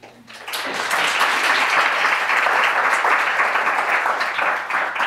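An audience at a university lunchtime poetry reading bursts into loud, dense applause that swells quickly and holds steady before easing off at the end.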